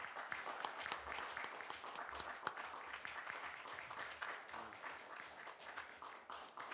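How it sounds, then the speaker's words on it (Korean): Steady applause from a lecture audience welcoming a speaker, dense and continuous, with a few sharper claps standing out, filling the whole stretch without pause. "여러분 큰 박수로 이재석 교수님을 맞이해 주시기 바랍니다"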